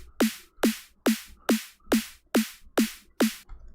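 A synthesized snare drum from Serum 2 with no LFO modulation repeats eight times in an even rhythm, each a short identical hit with a quick pitch drop into a bright noisy tail, sounding static and unchanging.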